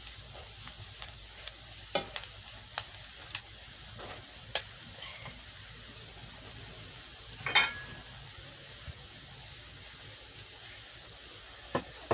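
Spice masala for a mixed vegetable bhaji sautéing in a pan over a wood fire, a quiet steady sizzle broken by scattered sharp ticks and crackles.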